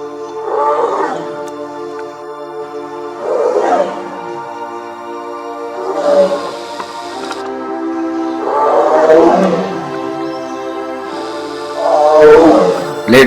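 A tigress in Tadoba forest gives about five deep, drawn-out roars spaced several seconds apart. The roars are loud and close, heard over a steady tonal background.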